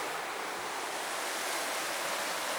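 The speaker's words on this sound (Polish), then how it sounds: "Ta rzeka nie daje mi spokoju." A river flows steadily beside a campsite near the Zugspitze in Bavaria, a continuous broadband rushing of water that stays even and fairly loud throughout, with no voices over it.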